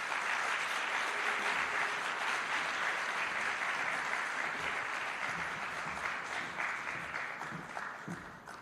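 An audience at an official launch event applauds loudly and continuously, a dense wash of clapping that slowly fades slightly toward the end.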